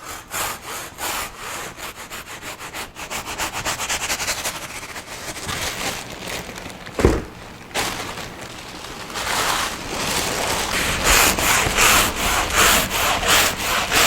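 A washed kudzu root is cut into chunks for kudzu tea, giving close, steady, rhythmic rasping strokes like sawing through fibrous wood for about fourteen seconds, with one brief knock midway and no talking.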